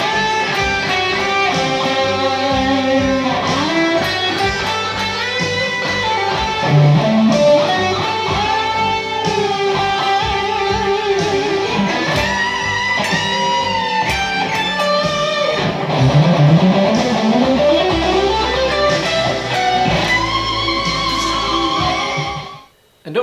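Electric guitar plays a solo at full speed, a loud sustained stream of bends, runs and vibrato notes over backing accompaniment for over twenty seconds.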